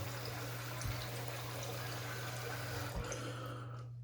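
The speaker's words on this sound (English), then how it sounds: "We're going to paint a little bit more water in and then we're just going to get to shaving." A shaving brush works water into lather in a bowl, giving a soft, steady wet swishing and trickling texture that runs continuously for a few seconds, close up and fairly quiet, over a low steady hum.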